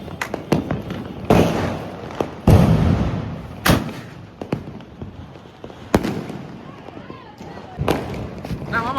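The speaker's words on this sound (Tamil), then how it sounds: "அவங்க தான் வந்து ஃபைனலாக வெடிக்கிறாங்க." Firecrackers burst during a family Diwali celebration, sharp loud bangs at irregular intervals, some close and some farther off, with people talking between the explosions.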